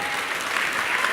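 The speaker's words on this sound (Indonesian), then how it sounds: "Tepuk tangan buat Bang Usman Hamid" A brief burst of dense audience applause at an Indonesian televised talk-show debate, loud and even, with no talk over it.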